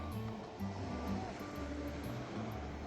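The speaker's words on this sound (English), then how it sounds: "Before dinner, we quickly ran to this beach called Red Rocks Beach. to catch the sunset." Ocean waves at Red Rocks Beach on Phillip Island, Australia, at sunset: a steady, full wash of surf rolling continuously with low rumble, with no pauses or talk.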